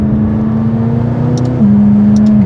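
A McLaren 570S supercar engine holds a steady loud drone, then its pitch steps up slightly as the revs rise, with faint clicks over the top.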